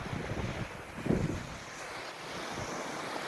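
Black Sea surf rolls onto a Varna beach in a continuous soft roar with gusts of wind buffeting the microphone, fairly quiet overall and with no voices.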